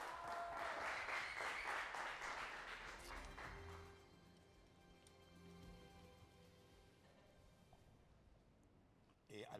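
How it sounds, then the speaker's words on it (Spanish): Studio audience applause greeting special guest Nati on a Spanish-language reality show, a loud burst of clapping for the first few seconds that gives way to lower background sound and faint voices. "¡Un aplauso para Nati!"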